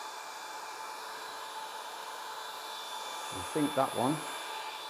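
Hot air welder blowing steadily while welding Altro Whiterock hygienic PVC wall cladding sheets, a constant hiss running throughout, with a brief voice speaking near the end.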